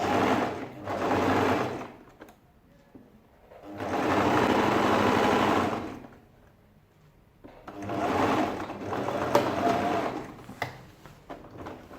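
A sewing machine stitching the side seams of a shirt dress runs in three separate bursts of about two seconds each, with short quiet pauses between them. The motor whirs close and loud, with no voices.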